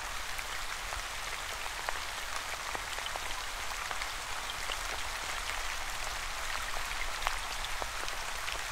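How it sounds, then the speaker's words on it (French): Steady rain falling on a surface, a dense, even hiss of countless drops with scattered sharper taps, continuous and unchanging throughout, with no voices. "Laissez votre pluie tomber où vous le souhaitez."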